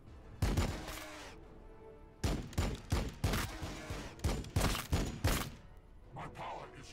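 Repeated gun bursts in the Warhammer 40k Battlesector strategy game, a single shot early, then a rapid series of sharp volleys with short gaps, moderately loud with someone talking over parts of it.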